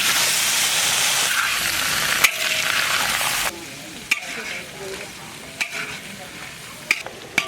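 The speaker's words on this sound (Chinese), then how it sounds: "先把肥肉油炒出来" Pork fat stir-fried and rendered in a wok for a rural Shaanxi pig-slaughter feast, giving a loud, steady sizzle that drops to a quieter frying crackle midway, punctuated by several sharp scrapes and clinks of the stirring spatula.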